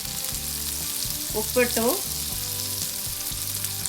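Turmeric, chili powder, salt and asafoetida sizzle in hot oil for mango pachadi, a steady frying hiss under a short spoken phrase, with a faint stirring scrape.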